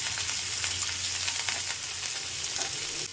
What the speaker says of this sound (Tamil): கொத்தமல்லி, கருவேப்பிலை, வெங்காயம், கருவேப்பிலை, கொத்தமல்லி போட்டு நல்லா வதக்கிடுங்க.